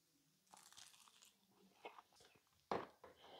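Crunchy bites into crispy Nashville hot chicken wings from a Recteq RT-700 grill, close and quiet, with a few crackling crunches and one sharp loud bite followed by chewing.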